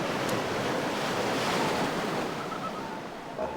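Sea waves breaking on a rocky coast, a continuous loud roar of surf and spray with wind noise and no voices.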